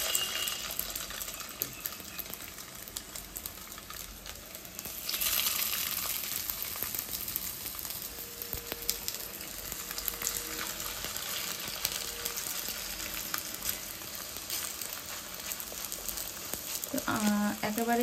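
Chicken burger patties fry in hot oil with a steady, close crackling sizzle that swells after about five seconds and stays dense throughout, with a brief clink of utensils near the end.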